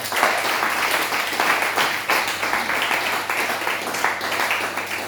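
A church congregation in Abidjan claps in rhythm, lively and continuous applause filling a room for several seconds, with a faint low hum beneath.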